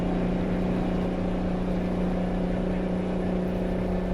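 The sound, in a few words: truck engine running, from a trucking video game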